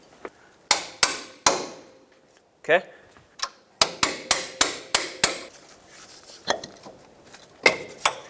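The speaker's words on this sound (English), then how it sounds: "take a hammer and tap it out that way" Sharp metallic hammer strikes ring out in irregular bursts, some in quick runs of several blows, tapping out a bolt on a 1996-2002 Toyota 4Runner front lower control arm, close up, with a brief word spoken between them.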